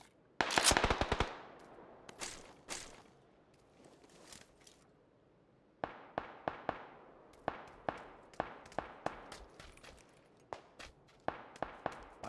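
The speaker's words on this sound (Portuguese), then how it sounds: "para de atirar em mim" Video game gunfire in bursts: a rapid automatic volley up front, scattered single shots, then a long run of sharp repeated cracks at an uneven rhythm, close and loud against a quiet background.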